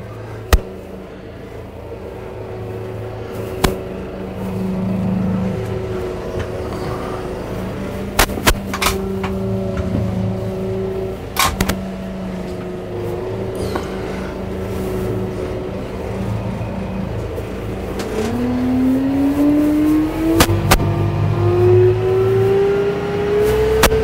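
A tractor engine rumbles steadily close by while running a boom pole attachment, then its pitch climbs as it revs near the end, with a few sharp clanks along the way.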